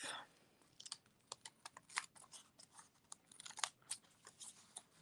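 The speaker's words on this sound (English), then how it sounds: "And then we're going to cut this edge off." Scissors snip along the edge of a recycled Christmas card in a quick run of small sharp crunchy cuts, close and fairly faint.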